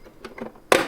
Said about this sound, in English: I would just take the cover for the gauge cluster and just click it on again.